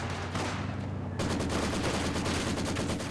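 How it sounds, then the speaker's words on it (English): Rapid sustained bursts of Maxim machine gun fire from a Company of Heroes 2 battle, loud and continuous, with dense rattling shots filling the whole stretch over a low rumbling battlefield bed. "Here comes the Maxim though."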